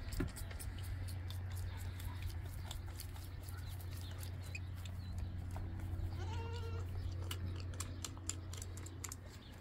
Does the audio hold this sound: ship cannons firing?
no